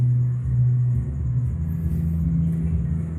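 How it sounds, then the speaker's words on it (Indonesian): A Honda Beat scooter's front wheel spinning after a 260mm front brake disc is fitted, a steady low rumbling drone with the brake pad faintly rubbing throughout, fairly loud and close. "Itu masih bunyi dari kampas ininya ya, kampas remnya ya."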